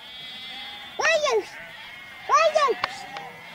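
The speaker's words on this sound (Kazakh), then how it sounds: "Қойды айдап жатыр екен қораға қарата." Sheep on a summer mountain pasture bleat as they are driven toward the pen, two clear wavering calls a second or so apart against a quiet background with a faint tonal hum.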